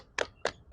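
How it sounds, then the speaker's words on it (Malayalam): Three sharp, isolated hand claps ring out at an even pace, close and fairly loud against a quiet background, at an announcement of Kerala Assembly election 2026 result predictions. "കൈയടിക്കാം"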